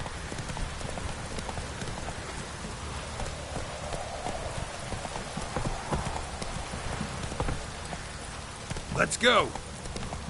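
Roach, a horse in the video game The Witcher 3, gallops in a quick rhythmic clip-clop of hooves over a rain-like hiss, with a voice speaking briefly and an exclamation near the end.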